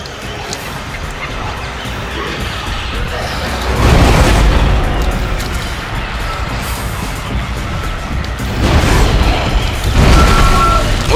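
Two heavy force gun blasts from the Dead Space sci-fi horror game, each a loud, broad booming burst a few seconds apart, over a steady rumbling game background.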